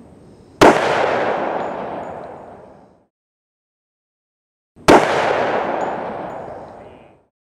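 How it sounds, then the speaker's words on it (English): Two .44 Magnum rounds loaded with 240 grain jacketed hollow points are fired at a ballistic armor demonstration, each a sharp, loud blast followed by a long reverberant decay, about four seconds apart. "now we're going to shoot 2 rounds of a 240 grain 44 Magnum jacketed hollow"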